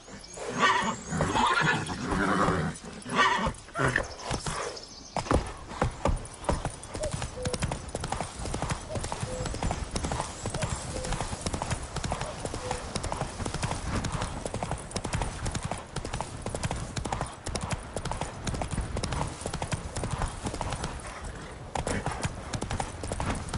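Roach, the horse in The Witcher 3, gallops for a long stretch with dense, continuous clip-clopping hooves, with a neigh near the start and a few game voices over the steady beat.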